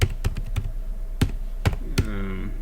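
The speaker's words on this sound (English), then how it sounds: "So I can type in here" Keys tapped on a computer keyboard at a desk: a handful of sharp, separate keystrokes spaced unevenly across a couple of seconds, close and clear, with no talking.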